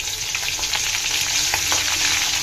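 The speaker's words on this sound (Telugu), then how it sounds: "ఆవాలు మళ్ళీ వేగుతాయి." Crushed garlic and mustard seeds fry in hot oil for a vegetable fry, a dense, steady sizzle with crackling pops and occasional stirring scrapes, close and loud, with no voices.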